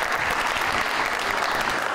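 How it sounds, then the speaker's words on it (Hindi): Studio audience applause on a TV talk show, loud continuous clapping at an even intensity filling the short moment without speech. "तालियां जी"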